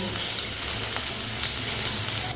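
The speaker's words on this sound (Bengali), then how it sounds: "এবারে তেলের সঙ্গে এই পেঁয়াজটা একটু ভালো করে ভেজে নিতে হবে" Chopped onion fries in hot oil in a wok, giving a constant loud crackling sizzle with small pops throughout and no voices over it.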